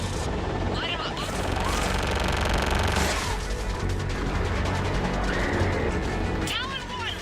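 Air support gunfire in the video game Mass Effect: dense, continuous bursts of rapid shots and booming impacts roar loudly and without pause, layered with engine and battle noise.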